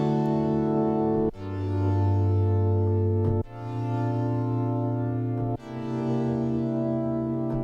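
A sustained synth chord droning with rich harmonics, changing to a new held chord three times with brief dips between.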